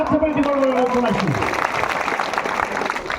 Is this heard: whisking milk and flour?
no